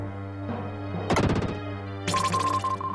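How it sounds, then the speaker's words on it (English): Psycho Dash attack explosions in the Illusion of Gaia video game: two bursts of crackling blasts in quick succession over a steady synthesized music bed. "I like the Psycho Dash, and I like the explosions it causes"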